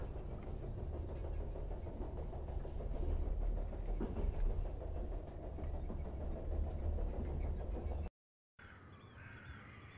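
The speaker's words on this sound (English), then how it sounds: "The train's stopping." A train in the video game Charnel House Trilogy rumbles and rattles loudly on the rails with a steady clattering drone, then cuts off abruptly into a quieter ambience as it comes to a stop.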